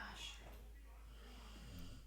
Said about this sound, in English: Pippin is snoring